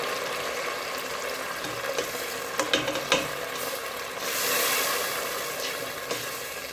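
Tomatoes fry with onions and garlic in an open pan for yellow vegetable rice, a constant sizzle broken by a cluster of clanking spoon stirs midway, up close and with no voices.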